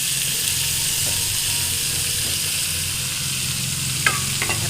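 Bottle gourd with a pinch of turmeric stirred in a pan with a little oil, giving a steady close sizzle with scraping and clicking strokes of the spoon and a few sharper knocks near the end.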